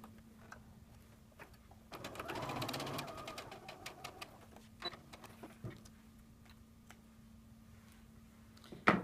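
A sewing machine stitches quilt fabric pieces together in short, close runs of fast mechanical whirring and ticking, with a steady low hum between bursts and occasional handling clicks.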